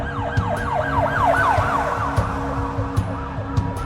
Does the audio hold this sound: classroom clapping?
no